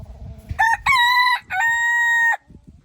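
A young rooster crows nearby, a clear, loud, somewhat strained call broken into several rising and held notes, with light background noise before and after.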